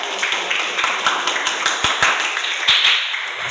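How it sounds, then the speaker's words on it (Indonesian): A class of Indonesian students claps together for themselves, a fairly steady stream of close hand claps with a few sharper individual slaps and faint voices underneath. "Minta tepuk tangannya buat kalian"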